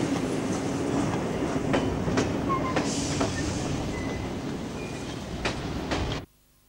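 A train running on rails during a 1986 Heritage Week steam train festival in Maitland, Australia, with a steady loud rumble and repeated clickety-clack wheel beats over the track, alone and close, ending abruptly.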